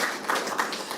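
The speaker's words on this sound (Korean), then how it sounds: "격려 박수 이렇게 합시다" Congregation at an afternoon church praise service clapping together in encouragement, a short burst of steady, fairly loud applause with no voices over it.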